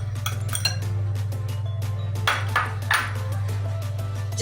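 Baking powder being mixed into flour for cookies: a utensil clinks and taps against a bowl in quick scraping strokes, close, over a steady low hum.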